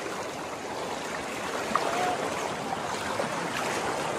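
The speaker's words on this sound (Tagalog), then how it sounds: "Medyo malakas yung current ng ano, agos." A strong, clear river current in Palawan runs over large rocks, giving a steady, close rushing and churning wash of water with no talk.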